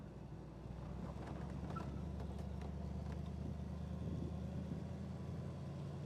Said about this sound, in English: Gonna go down into second gear if it'll let me.